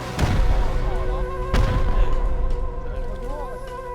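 Explosions in the survival video game Rust during a base defense, two heavy booming blasts about a second and a half apart with rumbling tails over a steady game background drone.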